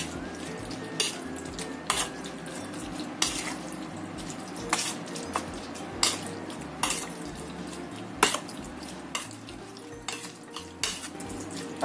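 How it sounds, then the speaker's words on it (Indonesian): A spoon scrapes and clinks around a bowl in a steady rhythm, stirring a meat and seasoning mixture with cornstarch, with soft kitchen background noise throughout. "Aduk sampai tercampur rata semuanya."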